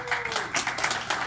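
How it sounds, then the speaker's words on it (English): Audience applause at a regional real estate forum, a short burst of clapping from a crowd of attendees with a few sharper individual claps standing out, heard over a faint tone and brief murmuring. "Please give them a round of applause."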